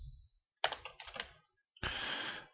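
Quick bursts of clattering keystrokes on a computer keyboard, close and crisp, with a pause between two fast runs of typing while entering code.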